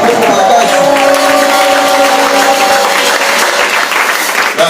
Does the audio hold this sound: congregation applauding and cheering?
yes